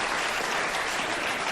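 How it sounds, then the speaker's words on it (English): Studio audience at a late-night talk show bursts into steady, dense applause, a continuous wash of clapping with no voices over it for a second and a half. "Applaud. People who've seen me before."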